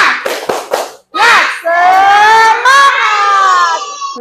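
An elementary classroom in a math lesson performs a clapping chant: a few quick sharp claps, a short pause, then the children shout a long, loud, drawn-out chant together in unison.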